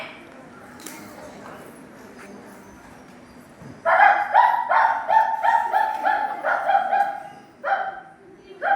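A dog barks repeatedly and loudly nearby in quick bursts, following a few seconds of quiet background.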